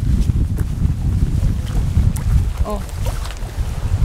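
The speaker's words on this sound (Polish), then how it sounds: "Troszkę wieje, ale jest ładnie." Steady wind buffeting the microphone on a steep mountain hike, a constant low rushing roar throughout, with a brief faint voice partway through.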